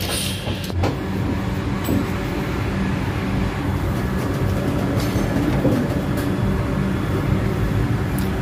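A first-class coach on a Pune-to-Delhi express rolls along steadily, with a continuous loud rumble and faint rail clatter inside the carriage.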